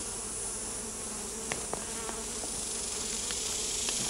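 A steady, close drone of honeybees fills the air at an open top bar hive that is short on bees, with a few sharper buzzes flicking past near the listener.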